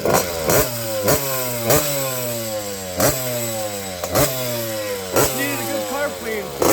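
A SYX Moto 50cc motorcycle runs after a carburetor cleaning, its small engine idling steadily with periodic sharp revving blips, close and moderately loud.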